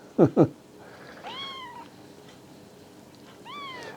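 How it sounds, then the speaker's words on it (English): Kittens feeding from mother cat Elsa on a lap: two sharp close squeaks first, then a pair of thin rising-falling kitten mews a couple of seconds apart over a quiet background. "Elsa's laid here and she's feeding all 3 kittens now"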